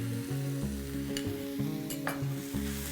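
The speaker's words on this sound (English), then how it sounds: "let's saute this till the raw smell of the ginger garlic is gone" Curry leaves sautéing with ginger and garlic paste in a pan, a constant close sizzle with soft stirring scrapes and a couple of brief sharper crackles, no talking.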